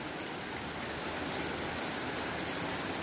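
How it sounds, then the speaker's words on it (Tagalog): Steady rain falls continuously in a dense, even hiss of countless drops striking surfaces, moderately loud and unbroken throughout with no voices present. "Nag-ulan na naman. Salamat sa rain."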